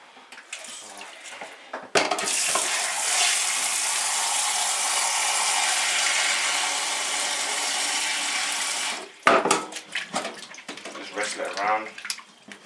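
Running water from a tap splashes loudly over chopped yam pieces in a bowl for about seven seconds, followed by sloshing and clattering as the pieces are rinsed by hand.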